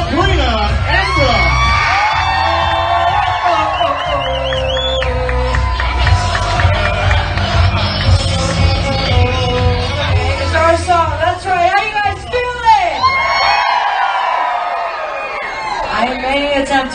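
A tightly packed crowd at a welcome home event for World Cup champion Orlando Pride players whoops, yells and cheers loudly and continuously, with shouts rising and falling and voices calling out amid the din.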